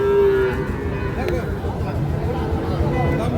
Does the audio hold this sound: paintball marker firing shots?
no